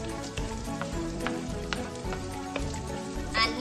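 Onions hit a pan of browned garlic and fry with a steady, soft sizzle, with occasional sharper pops and crackles standing out.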